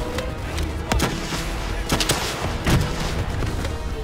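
Video-game gunfire from Call of Duty Black Ops 3 cracks out in several sharp bursts over a dense, roaring battle bed, steady and close throughout the short stretch.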